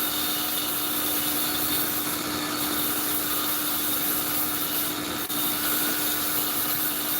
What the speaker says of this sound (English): all it's really doing is just polishing the handle more than anything.